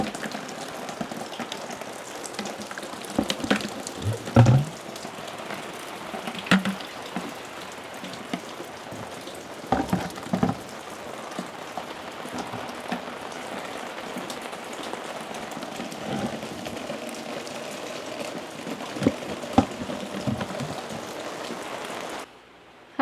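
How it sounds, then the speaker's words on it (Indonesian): Rain falling outside at a garden, a dense steady patter of drops on surfaces with scattered louder drips and splashes, continuous and alone for the full length. "Kok sekarang ini turun hujan. Seharian hujan, nanti malamnya juga hujan lagi."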